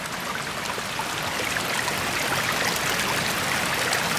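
Runoff water rushing beside a washed-out dirt road on a homestead, a steady, close, full-bodied stream of flowing and splashing water with no pauses and no talk.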